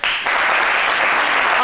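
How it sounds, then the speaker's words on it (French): A studio audience on a French midday television show breaks into dense, loud, continuous applause that starts abruptly and holds steady throughout. "le voici avec sa maman qu'on applaudit."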